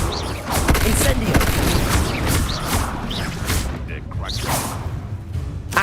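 The Incendio fire spell cast repeatedly in Hogwarts Legacy, with fiery whooshes and bursting booms amid whipping swishes and mechanical clatter of spell combat, loud and busy throughout, with voices mixed in.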